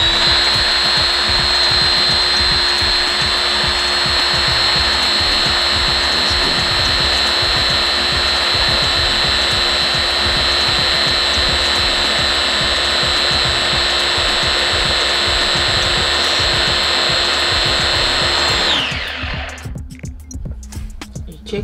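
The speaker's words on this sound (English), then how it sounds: "The bananas have to be blended all to a smooth puree." Blender whirring at a steady high pitch as it purees bananas with lemon juice, loud and close, then spinning down and cutting off near the end.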